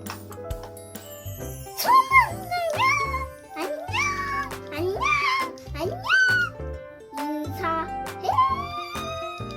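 A cartoon character's voice imitates a cat with a string of rising, high meows in an animated Tiniping house scene, backed by light tinkling music and chimes.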